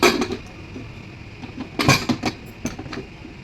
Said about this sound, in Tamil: இப்போ நம்ம வந்து மூடி வச்சிடலாம்.